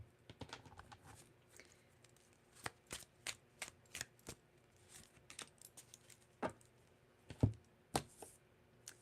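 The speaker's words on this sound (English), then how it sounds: "I couldn't even finish that last shuffle" Tarot cards being shuffled, crisp riffles and taps in quick irregular bursts, close and fairly quiet, with no talking.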